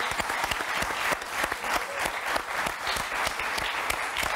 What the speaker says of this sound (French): On peut l'applaudir, le président de Montchat.